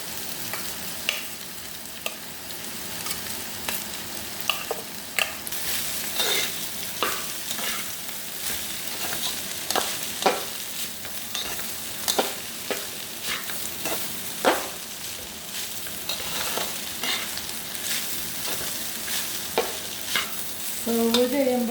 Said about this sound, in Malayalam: ചോറ് മിക്സാക്കി